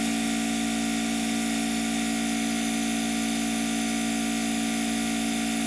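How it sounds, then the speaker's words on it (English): A small electric compressor runs steadily behind a workbench tool during amplifier repair, a loud continuous mechanical drone with a strong low hum that holds unchanged throughout. "This tool has a compressor behind it, a little electric compressor, and it gets pretty noisy."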